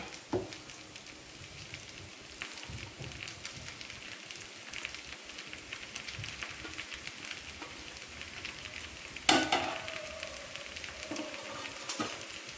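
Cut idli pieces frying in hot oil, a faint steady crackling sizzle with occasional soft utensil knocks and one louder clatter partway through.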